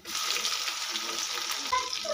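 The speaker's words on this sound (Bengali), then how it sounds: "পেঁয়াজ কুচিটা একটু লাল লাল করে ভেজে নেব।" Chopped onion frying in hot oil after fried garlic paste, a close, steady crackling sizzle with occasional stirring scrapes that continues through the whole stretch without pauses.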